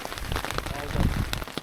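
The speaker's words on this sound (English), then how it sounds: "Waiting for the rain to die down." Steady rain patters over a wild campsite in extreme conditions, a dense, continuous hiss with scattered drop hits throughout, close and fairly loud, with faint murmured voices underneath.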